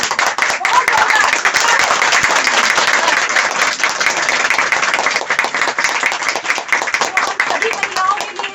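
An audience at a network marketing gathering gives a crown ambassador loud, sustained applause, close and crisp, with many individual claps in a dense, lively rhythm that thins slightly toward the end.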